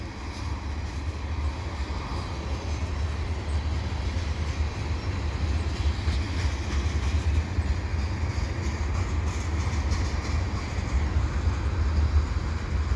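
A CN mixed freight train rolls slowly eastbound at Beaconsfield, giving a steady, close, low rumble with faint wheel clatter that holds evenly for the whole stretch.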